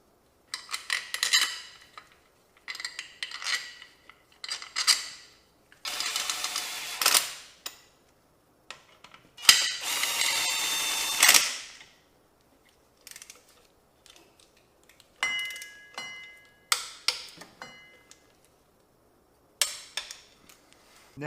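Reinstalling a driveshaft center bearing cover with Torx bolts: a series of metallic clinks, ratcheting clicks and scraping bursts, loud and close, separated by short pauses.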